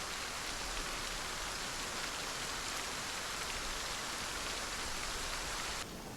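Steady rain falling in the video game Project Zomboid, a dense even hiss of raindrops with a low rumble beneath, continuous and unchanging until a slight drop in level just before the end.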